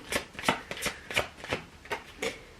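Tarot cards being shuffled and falling, a series of quick rustling riffles and flicks in a steady rhythm of about seven bursts, close and fairly quiet.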